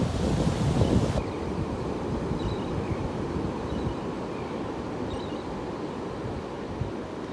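Wind-blown ocean surf during Hurricane Dorian, a broad continuous roar with heavy microphone buffeting, loudest in the first second and then steady and moderately faint.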